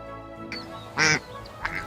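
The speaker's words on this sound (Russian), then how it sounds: "утка" A duck quacks once, loud and close, with a brief second quack near the end, set against a faint background tone.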